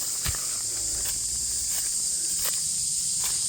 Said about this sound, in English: Cicadas are very loud and very annoying.